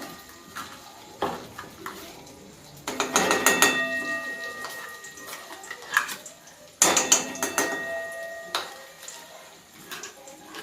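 A spoon scrapes and clinks against a pan while pumpkin paste is stirred for pumpkin laddu, irregular metallic knocks and rattles, close and fairly loud, with a few bursts of heavier clattering and no speech.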